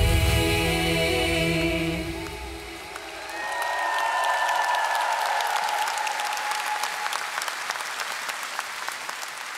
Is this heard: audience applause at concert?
yes